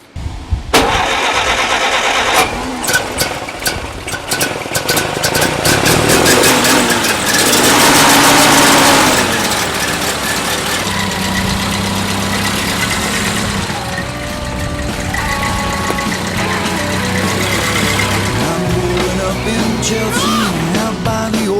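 A rebuilt 1933 Ford Model B engine with a high-compression head and sports exhaust starts loudly, revs up, then settles into a steady, throaty idle close by, with no talk over it.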